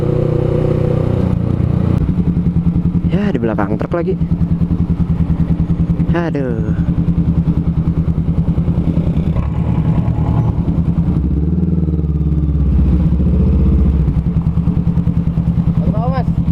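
A Honda CMX500 Rebel 500 cc motorcycle riding along a bumpy road behind a truck, its engine a steady low drone close up throughout, with a rider talking briefly over it.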